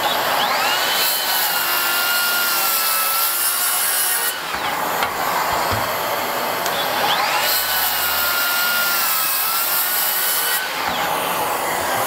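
A cordless SKILSAW worm drive circular saw cuts through wood in two long passes, each a loud, continuous grinding whine of several seconds separated by a short break, heard up close with no speech.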